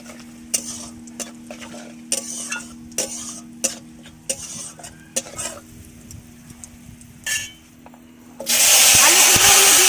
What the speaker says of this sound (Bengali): তেল গরম হয়ে গেছে, দিয়ে দেবো কালো জিরে আর রাঁধুনি, দিয়ে দিব দুটো তেজপাতা